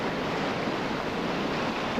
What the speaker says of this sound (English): Big crashing waves.